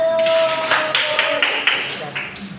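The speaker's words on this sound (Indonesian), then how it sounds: "Beri tepuk tangan kelompok 1" A class of students clapping for group 1 during an Indonesian language lesson in a classroom, a dense patter of hands over a few seconds with a tonal voice-like line early on.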